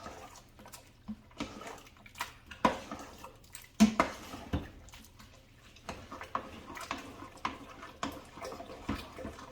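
Hot plant-based Zuppa Toscana with cubed vegetables and beans ladled into bowls: wet splashing and sloshing with scattered clinks of ladle against dishware, close and moderately quiet.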